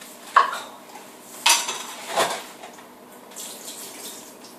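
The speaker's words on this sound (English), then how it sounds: "So I'm just going to drain the brine off." Brine from jarred olives drained off in a kitchen, with a few sharp clanks of jar or utensil against metal and short splashing pours between them.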